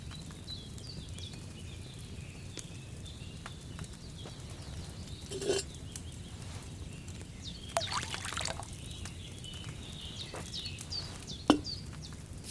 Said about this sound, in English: So, what did you pour in there? Water.